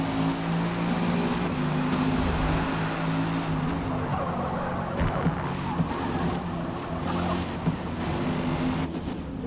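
Ligier JS P3 LMP3 race car engine in Forza Motorsport, a steady droning hum with tonal bands running close and continuous while entering the pits, loud and unbroken without talk.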